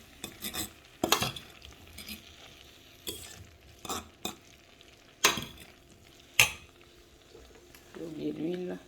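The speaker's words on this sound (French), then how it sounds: "Et avec une fourchette, venir mélanger tout ça." A fork stirs beef in a frying pan over medium heat, giving sharp scattered clinks and scrapes against the pan with a soft sizzle underneath and a short burst of frying at the end.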